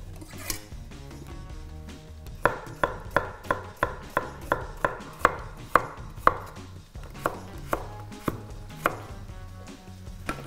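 A knife chops carrot on a cutting board for cau cau de mondongo, about fifteen crisp, evenly paced thuds in a steady rhythm, close and clear with no talk over them.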